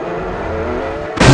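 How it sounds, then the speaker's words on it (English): Engine of a Toyota Supra Type R with VTEC driven in Garry's Mod, a steady droning hum that jumps abruptly into a louder, harsher rev at the end. "this is a Type R Supra! Get him! Type R Supra with VTEC!"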